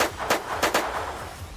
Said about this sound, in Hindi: संदीप को एक के बाद एक 20 गोलियां मारी गई